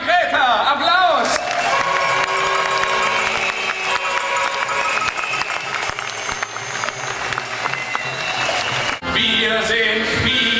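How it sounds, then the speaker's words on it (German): Crowd at a Monday street demonstration applauding an accordion player, busy clapping and crowd noise with voices throughout, loud and sustained, shifting abruptly near the end. "Am Akkordeon Eva Greta. Applaus!"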